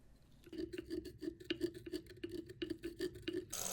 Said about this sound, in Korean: 치간 칫솔을 활용한다면 간단하게 뚫을 수 있을 겁니다